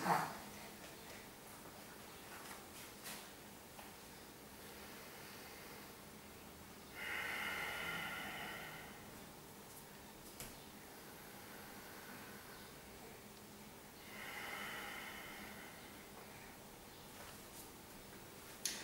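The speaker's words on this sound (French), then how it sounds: "Avec le port du masque, ça va donner ceci." Slow breathing through a face mask, two soft airy breaths roughly seven seconds apart, close but muffled and faint, with no talking.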